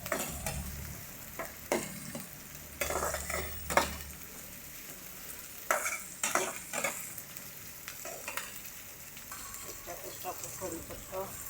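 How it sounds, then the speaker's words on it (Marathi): Sliced onion frying in oil in a pan for poha, a continuous sizzle broken by repeated stirring scrapes and light clinks of a spoon against the pan. "मस्त असा कांदा तेलामध्ये भाजून घेऊ."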